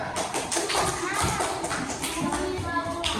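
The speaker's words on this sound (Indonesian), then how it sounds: "Oke, tepuk tangan untuk temannya." Children in an Indonesian classroom clap for a classmate, a quick run of scattered, uneven claps mixed with chatter and voices.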